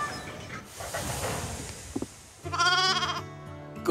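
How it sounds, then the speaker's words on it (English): Sheep bleat in a loud, sustained wavering cry that rises over a busy background of noise near the end, on a farm by a railway shunting yard. "My very important sheep."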